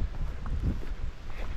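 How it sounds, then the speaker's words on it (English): Strong wind on the Baltic Sea coast at Kellenhusen buffets the microphone during disc golf, with a constant, heavy low rumble and gusty roar throughout. "Really, there is so much wind,"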